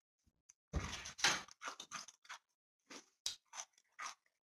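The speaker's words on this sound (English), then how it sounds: "I'm trying to show them how crunchy it is" Crunchy lacto-fermented sauerkraut chewed open-mouthed close to the mic, a rapid run of sharp wet crunches in irregular bursts with short pauses.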